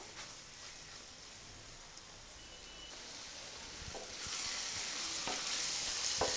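Mushroom pepper gravy thickening in a pan on the stove, a faint steady sizzle and bubbling with a few soft stirring scrapes that grow slightly louder toward the end, with no talking.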